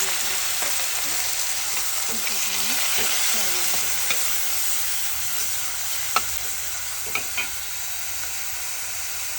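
Tomato and curry leaves fry in oil in a curry pan for fish curry, a steady hissing sizzle broken by occasional scraping stirs and a few sharp knocks of the spoon.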